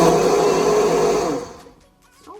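Blender whirring loudly as it blends oats, a steady motor drone that winds down and cuts off about halfway through, leaving quiet afterward.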